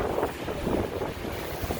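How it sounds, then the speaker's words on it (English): Strong wind gusting during a snowstorm on Michigan Avenue in Chicago's Streeterville, a loud, close buffeting roar across the microphone with no voices. "Hopefully you can hear me because it's very windy."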